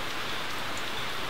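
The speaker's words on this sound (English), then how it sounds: "even in paradise it does rain" Steady rain falls on a deck at a rural guesthouse in Belize, a dense, even hiss that fills the whole moment without a break.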